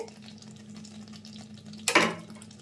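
Matar malai paneer is stirred in a frying pan: one brief scraping sizzle rises about two seconds in over a low, steady kitchen hum.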